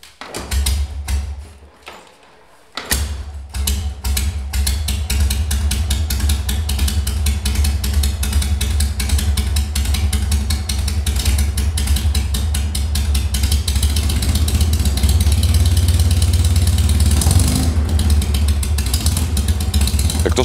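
An old motorcycle engine sputters, catches and settles into a loud, steady idle with a rapid thumping beat, close by, no voices.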